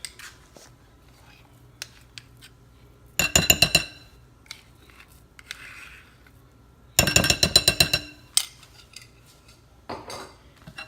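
Utensil scraping and clinking against a bowl while seasoning and miso are mixed for vegan fried chicken, two dense bursts of rapid metallic clatter separated by quieter scattered taps, close and clear.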